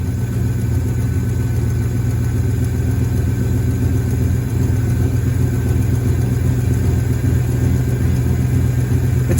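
A 1978 Ford F-250 crew cab engine idles steadily and loudly up close, a continuous low rumble with a slightly loaded, uneven throb and no pauses.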